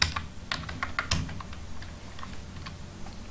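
Rapid clicking keystrokes on a computer keyboard, a quick irregular burst of typing up close that thins into lighter taps toward the end, with no talking.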